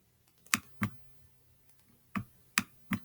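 Laptop trackpad clicks, five sharp distinct taps in an uneven rhythm, close and crisp against a quiet room.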